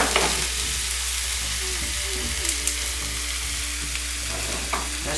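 Ginger garlic paste fries in a pan with a steady, dense sizzle that lasts throughout, with occasional stirring clicks and no talk.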